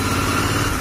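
A motorcycle engine runs steadily while riding across a bridge, a close, fairly loud continuous drone with no speech over it.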